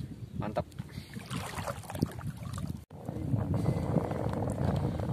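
Strong wind buffets the microphone while snakehead fishing on wide open water, a steady rumbling gust noise with faint rustles and brief knocks.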